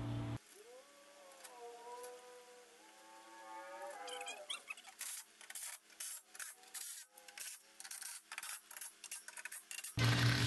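Skid plate bolts are tightened on a Polaris RZR 4. A squeaky, rising rubbing tone comes first, then a quick run of sharp, close ratcheting clicks.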